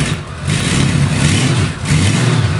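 A Valkyrie trike's engine runs close up with a steady, loud, rough drone and slight swells in revs throughout, with no voices over it.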